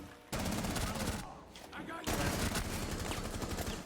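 Rapid automatic gunfire from a weapon in Rainbow Six Siege, loud and continuous in dense bursts with a brief lull in the middle, practice shooting for recoil control.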